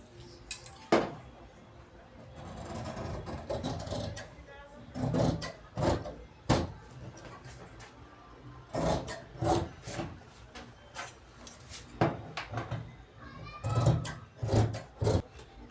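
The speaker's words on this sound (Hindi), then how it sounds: "तो इसी निशाना पर हम कटिंग कर देंगे।" Scissors slice through fabric along a chalk marking for a round-neck kurti, a steady run of rasping, scraping cuts with irregular louder snips, close, while someone talks over parts of it.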